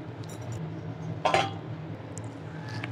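A pot of Kerala-style green peas curry made with coconut milk: a brief metallic clink of the lid being lifted midway, with quiet stirring and gentle kitchen clatter before and after.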